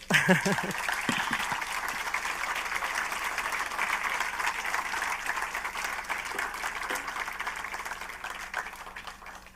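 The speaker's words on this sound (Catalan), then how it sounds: "Un aplaudiment per ell." An audience at a gallery awards night applauds an honoree, a sustained even roll of many hands clapping, following a brief voice at the start and fading gently toward the end.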